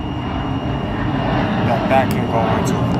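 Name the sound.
airplane flying over the house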